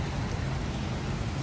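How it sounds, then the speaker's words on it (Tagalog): Steady rain falls in a dense, even hiss of broadband noise, fairly close and continuous throughout with no talk over it. "Tama, umuulan."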